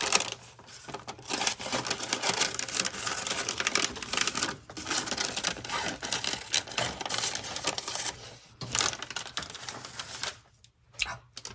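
Paper is cut out for a scrapbook craft project with a small craft border, a dense run of crisp snipping and rustling clicks close by, continuing in bursts with brief pauses and no talk.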